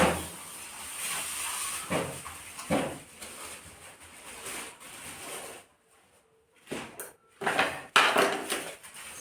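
A pan taken out and handled in a home kitchen, with clanks and scrapes of metal cookware and a hissing rush, broken by a short quiet gap before more clattering bursts near the end.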